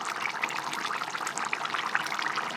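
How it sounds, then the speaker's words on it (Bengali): Ghee poured into a simmering Bengali rohu fish curry with potato, green banana and tomato, giving a soft, steady hissing trickle that continues at low volume without talk. "আমি একটু এই যে ঘি দেব"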